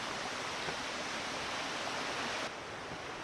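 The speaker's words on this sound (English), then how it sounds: "this is why it's called the Cascades, because obviously there is a waterfall" Steady, full roar of the waterfall at the Cascades on the Blue Ridge Parkway, broadband rushing water heard close and continuous, dropping slightly in level near the end, with no voices.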